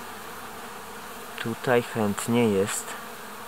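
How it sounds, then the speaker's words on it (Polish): Bees buzz around mustard flowers in a steady, soft insect drone, with a brief spoken remark from a nearby voice cutting in over the middle. "To spowodowało, że naprawdę te pszczoły latały, chodziły i tego pokarmu tutaj trochę zeszło."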